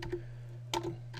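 Several light keystrokes on a computer keyboard while typing into a VB.NET 2010 Express form, heard as a few soft, separated clicks over a steady low hum.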